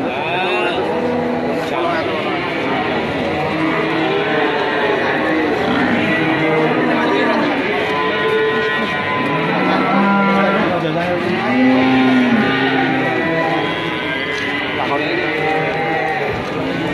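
Sanglir cattle at a livestock market low and moo repeatedly amid a crowded, noisy setting, with people talking throughout and other animals calling nearby.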